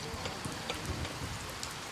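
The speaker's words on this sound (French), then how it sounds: "Ce matin, sous une pluie battante" Heavy rain pours down steadily at a château restoration site, a dense continuous hiss with scattered drop patters, heard alone.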